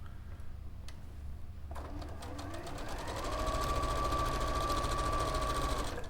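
After a quiet start, a sewing machine chain-pieces quilt pieces for a star quilt, running in a fast, steady, close mechanical whir that holds until the end.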